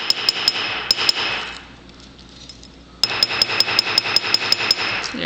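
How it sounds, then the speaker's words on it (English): A rivet head being hammered flat, heard as sharp, ringing metallic strikes in quick, steady runs at close range, with a short quiet gap between the two bursts. "Just hitting that rivet head. Flat."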